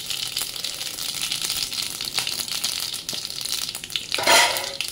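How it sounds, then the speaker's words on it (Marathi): A tempering of mustard seeds, cumin and asafoetida in about two spoons of hot oil for bhendi curry, crackling and popping with sharp little bursts and a louder sputtering flare near the end. "चला आता आपण फोडणी देऊया."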